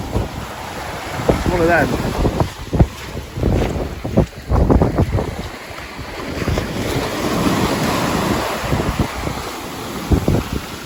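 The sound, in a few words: surf waves on a Dorset beach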